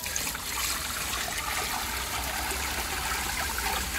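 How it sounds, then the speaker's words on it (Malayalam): Water from a blood worm culture pours steadily into a net, a soft continuous trickling splash at close range with no talking. "ഈ ഒരു നെറ്റിലേക്ക് ജസ്റ്റ് ഇതൊന്ന് ഒഴിച്ചു കൊടുക്കാം"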